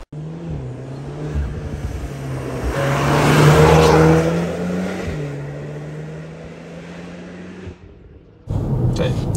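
A small shuttle bus on a road near an Audi S3 facelift passes by, a broad engine and tyre swell building to a peak then fading, with a steady low car drone beneath and a brief louder noise at the end.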